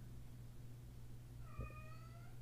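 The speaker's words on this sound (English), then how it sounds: "Do you hear that? It's one of my crazy cats." A house cat lets out a single short meow partway through, faint against a low steady indoor hum, with no one talking.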